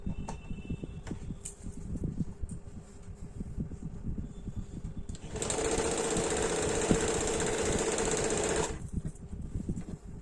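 A sewing machine stitches lace onto the fabric of a deep-neck kurti, running in one steady, fairly loud burst of about three seconds midway, with quieter low background rumble before and after.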